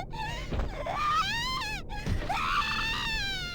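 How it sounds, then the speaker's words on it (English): A young woman's scream of agony from the horror video game Corpse Party, two long anguished wailing cries rising and falling in pitch, loud and close, with a brief break between them. "waves of unbearable agony trigger unconscious screams of primal, nearly animalistic"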